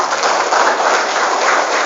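A dense, even wash of clapping from a crowd at a motivational session in an Islamic boarding school, loud and sustained with no gaps, sounding like applause from many hands at once.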